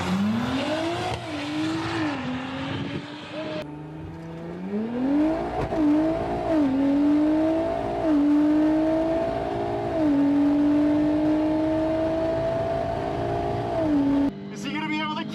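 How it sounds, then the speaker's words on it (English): A budget drag car launches at full throttle on a quarter-mile strip, its engine droning loudly and climbing in pitch through several gear shifts, with a voice talking over it. "I got my foot on the brake pedal, my other foot on the gas pedal, mashed it all the way down"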